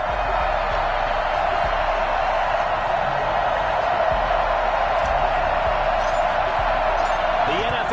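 Steady stadium crowd roar from an EA Sports NFL football video game, New York Jets versus San Francisco 49ers, forming a dense continuous wash of cheering that holds at an even loud level throughout with no talk.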